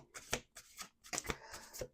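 Playing cards are shuffled in several quick riffling bursts, crisp and close, with short pauses between them.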